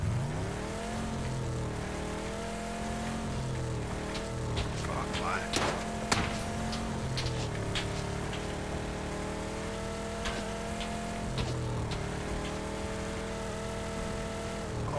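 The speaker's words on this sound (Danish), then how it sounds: "Okay, jeg er så ind i bilen." A car drives in the PUBG video game, its engine droning and shifting pitch over rain noise, with brief clatters along the way. Players talk throughout.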